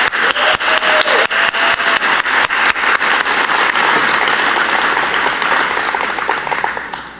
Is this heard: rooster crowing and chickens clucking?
no